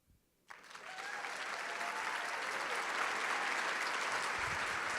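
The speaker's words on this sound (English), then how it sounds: "Round of applause for Gianthi." An audience at the One Water Summit breaks into applause, starting abruptly after a short quiet moment and then holding as a steady, dense clapping that fills the room without voices.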